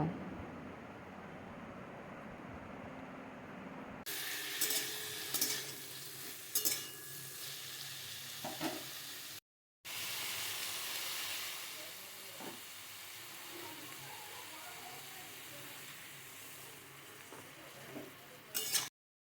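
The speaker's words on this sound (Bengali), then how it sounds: "এখন সবজির সাথে বাটা মশলাটা ভালো করে মিশিয়ে নিচ্ছি" Vegetable stalks being stirred in a pan with ground spice paste of ginger, cumin and radhuni: steady sizzling and scraping that runs throughout, with a brief break in the middle.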